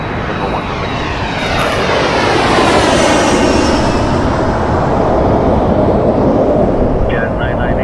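A jet airliner takes off at Toronto Pearson airport, filling the air with a loud, close, continuous roar and a whining engine tone that sweeps through the pass.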